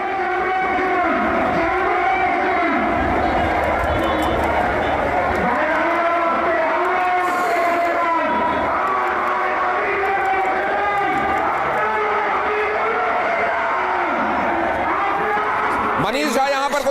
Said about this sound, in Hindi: ये भीड़ देखिए, ये नारे सुनिए